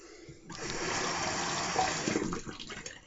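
Cold water runs from a tap for a rinse during a shave. A steady, close splashing stream starts after a brief pause and keeps flowing, with some uneven gurgles near the end. No one speaks.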